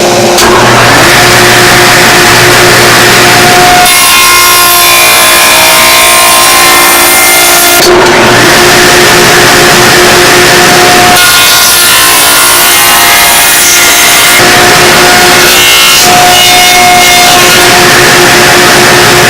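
Wooden shelf legs ganged four at a time while notches are cut in them, a loud power saw roaring in repeated long passes with brief pauses between cuts, no talking.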